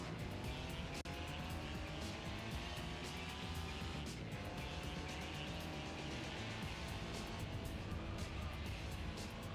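Race cars in the Gran Turismo 4 video game: a continuous, dense engine roar with rising and falling revs from several cars and faint tire squeal, steady throughout.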